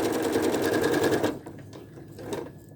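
A sewing machine runs in a steady, rapid stitching burst, then stops, leaving quieter handling clicks and faint room noise.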